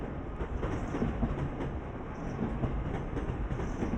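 A train rolls along the railroad in Roblox Rise of the Dead with a continuous loud rumbling drone and faint clattering, steady throughout and heard without talk.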